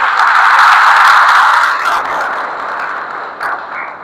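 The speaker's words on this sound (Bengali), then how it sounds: "এই জন্য আপনাদের কাছে একটা করতালি প্রত্যাশা" Audience clapping at a Dhaka University hall gathering, a dense steady wash of many hands that thins and fades over a few seconds.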